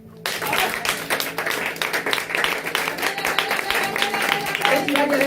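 A church congregation claps and cheers for Jesus, a dense, lively wave of rhythmic applause that starts abruptly and continues loud and close, with voices mixed in throughout.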